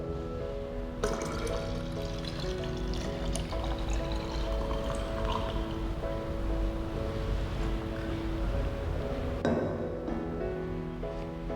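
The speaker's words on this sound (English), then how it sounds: "We now pour this 400 milliliters into 1 liter measuring cylinder." Water, about 400 ml, is poured steadily into a 1 litre measuring cylinder, a continuous splashing fill with rising tonal ringing that runs for roughly ten seconds before easing off.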